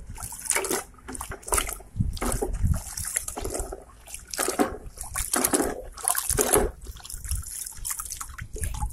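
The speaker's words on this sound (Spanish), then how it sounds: "Voy a meterlo en este bote con agua para enjuagarlo bien." A gas water heater part is swished and rinsed in a container of water, giving irregular bursts of splashing and trickling with short pauses, close and fairly loud, with no talking.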